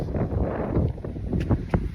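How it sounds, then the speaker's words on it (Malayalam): Strong wind gusts through a Canadian snowstorm outdoors, roaring and buffeting against the microphone with uneven surges and a few sharper knocks near the end. "നല്ല കാറ്റുണ്ട്."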